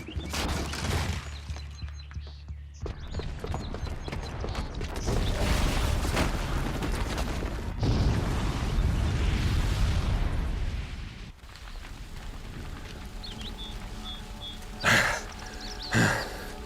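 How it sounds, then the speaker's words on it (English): A booby-trapped bomb detonates in the video game Horizon Zero Dawn, a loud, sustained blast with rumbling debris and mechanical creaks, followed by quieter game sounds and a couple of sharp bursts near the end. "the booby trap on the bomb downstairs is gonna get set off"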